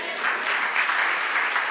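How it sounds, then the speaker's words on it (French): A church congregation applauds with a steady, close wash of many hands clapping, sustained without a break and with no voices over it. "On applaudit le Seigneur."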